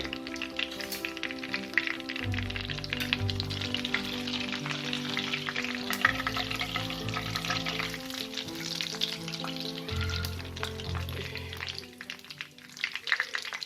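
Fish kabiraji frying in a pan over a medium flame, a continuous soft sizzle with occasional light taps, heard beneath background music with sustained tones, fading near the end.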